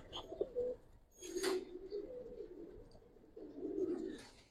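Giribaz pigeons coo softly nearby, with low, throaty rolling calls repeating in a few drawn-out phrases, along with faint chirps and a brief rustle in a quiet setting.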